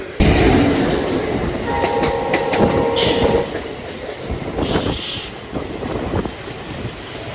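The Guruvayur–Madurai Express rumbles past close by in Kerala, wheels clattering steadily over the rails, with a sustained horn-like tone sounding partway through.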